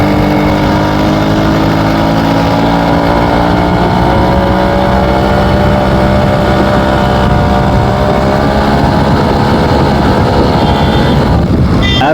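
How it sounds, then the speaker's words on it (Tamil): Motorcycle with off-road tyres climbing a hairpin-bend hill road at Yercaud in third gear, its engine a loud steady pulling drone with rising tones, heavy wind rushing over the microphone throughout. "3rd கியரில் நல்லா இழுக்குது வண்டி."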